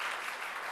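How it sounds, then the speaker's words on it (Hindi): Audience in a coaching class clapping for the teacher, a brief even burst of many hands at moderate level, with no talk over it. "सर के लिए ताली बजाओ।"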